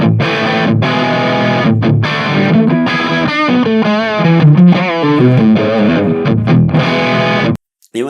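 Electric guitar played through a Tone King Royalist amp set for a crunchy Marshall Plexi-style tone, a loud, driven run of chords and single-note lines that rings for about seven seconds, then cuts off abruptly.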